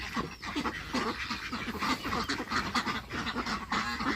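A crowded flock of Yi-Liang ducks quacking and honking nonstop, loud and close, with no voices.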